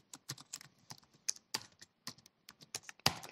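Rapid, irregular clicking of keystrokes on a computer keyboard, close and fairly quiet, with a sharper louder tap near the end and no speech.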